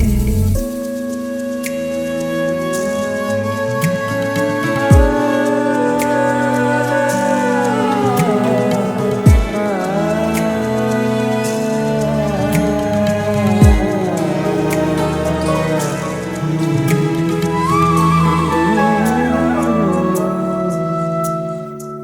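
A full music track built on a tabla loop with heavy shakers driving it, dense continuous rattling percussion under sliding melodic lines and occasional deep bass hits, steady and loud throughout.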